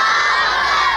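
A large crowd at a religious gathering shouts a slogan back in unison, a loud, dense wall of massed voices that holds steady for about a second.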